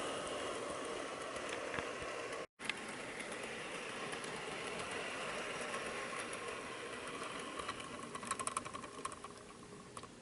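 Toy train engine number 5702 from a President's Choice Mini Chefs Express set, running in forwards and backwards, gives a faint, steady mechanical whir with a soft rattling texture that continues without a break and has a brief dropout near the start.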